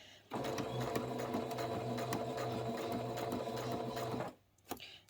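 A sewing machine stitches a quilt block for a Ribbon Friendship Star, running steadily for about four seconds before stopping with the needle down, followed by a brief soft clunk.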